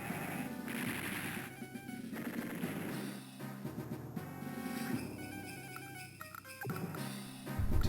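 Chiptune-style gunfire from Advance Wars 2 rattles in rapid bursts over game music and battle effects as a unit attacks a tank, loud and busy throughout.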